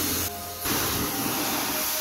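A pressure washer sprays a hotshot parts truck that sat under a tree for 13 years, making a loud continuous hiss up close that briefly cuts out and then resumes.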